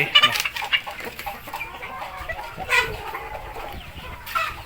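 A flock of farm chickens clucks in the evening, scattered calls and short squawks popping up close by over a low, busy background, with no talk.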